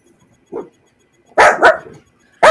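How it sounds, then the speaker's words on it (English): A dog barks loudly and close, one short yip followed by a pair of quick sharp barks and another starting at the end, with silence between. "Look at this. Dogs man."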